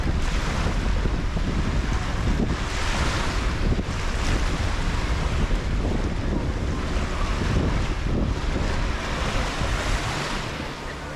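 Ocean waves wash onto a beach at Neil Island in the Andaman Islands, a loud, continuous surf roar with gusting wind buffeting the microphone, no talking.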